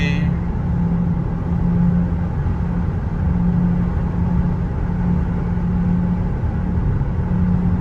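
Audi A3 fitted with an S3 engine swap accelerating in sixth gear, a steady low engine drone and road rumble heard from inside the car, continuous and fairly loud.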